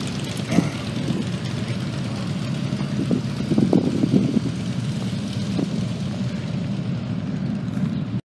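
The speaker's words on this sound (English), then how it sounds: "sounds like they got every motorcycle running out here." Many motorcycles running outdoors during test rides in Apache Junction, Arizona, making a continuous low engine rumble at moderate distance that stays steady throughout, with no talking.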